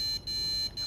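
Computer motherboard beep code signalling faulty memory: two short breaks split a continuous electronic tone into repeated long beeps, steady and alone.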